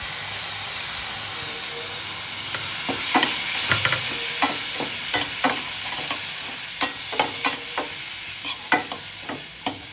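Tomato stirred and fried in a hot pan with garam masala and coconut-poppy seed paste for a Marathi brinjal curry: steady sizzling hiss with repeated scraping stirs growing sharper toward the end, close and clear, no talking.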